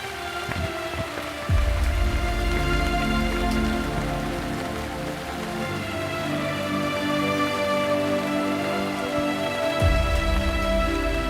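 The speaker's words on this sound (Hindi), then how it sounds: "बारिश बहुत तेज़ हो रही है" Heavy rain pours steadily onto surfaces outdoors, a dense continuous hiss with spattering drops that stays loud throughout with no talking.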